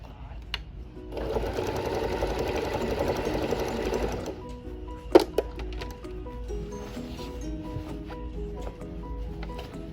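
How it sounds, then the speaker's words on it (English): A sewing machine stitches a skirt waistband, running in one steady close burst of rapid stitching for a few seconds, then stopping. A sharp knock follows and quiet handling carries on. "I sew my waistband"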